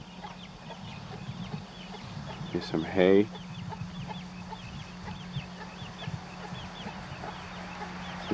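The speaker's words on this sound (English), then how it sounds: "Some chickens." Chickens cluck in short scattered calls around a farmyard with hay, goats and a cow nearby, mixed with a steady low hum and a brief louder burst, while someone speaks briefly.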